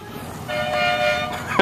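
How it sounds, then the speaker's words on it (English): During the June 2011 Egg Festival parade, a vehicle horn gives a sustained, fairly loud toot lasting about a second, with street noise beneath and a sharp knock right at the end. "We have a honk off going on."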